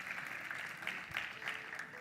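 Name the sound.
audience applause in church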